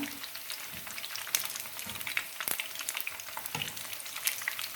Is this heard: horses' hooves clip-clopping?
no